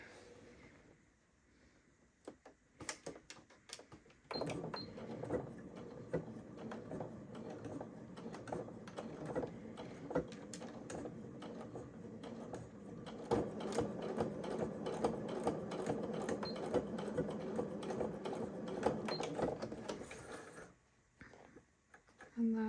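A sewing machine runs a straight stitch set to 3.5 length while sewing a burrito-style fabric scrunchie, a steady mechanical whir with needle clatter that rises and continues for most of the stretch, with soft talk underneath at moments.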